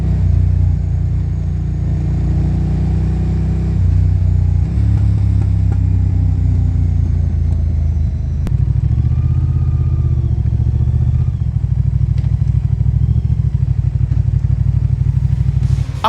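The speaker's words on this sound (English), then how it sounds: "The exhaust had a nice low tone" A Moto Guzzi V100 Mandello S motorcycle rumbles with a steady, deep, low-toned exhaust note, close and loud throughout, with no one talking.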